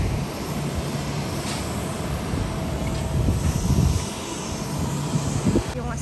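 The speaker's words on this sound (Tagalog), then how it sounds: "Ayan, kita mo lahat dito yung aeroplano." Airplanes at Haneda Airport in Tokyo make a continuous low engine rumble and broad roar, heard from an upper observation deck, steady and moderately loud with faint background activity.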